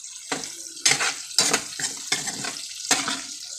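Food stirred in a frying pan while cooking daing and arroz caldo, a close series of about six sizzling, scraping strokes at an uneven rhythm, each one loud and hissy against quieter frying between, no voices.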